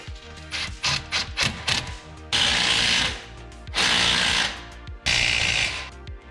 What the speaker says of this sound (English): Cinch them up with our impact tool.